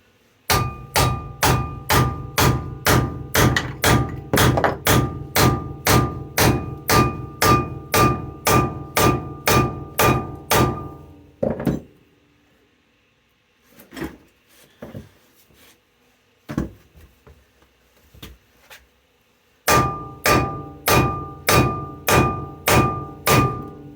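A hammer strikes steadily on the front suspension of a Dodge D150 to pop a ball joint loose, loud close metallic blows in a regular rhythm, then a pause with scattered clanks, then another rapid series of blows.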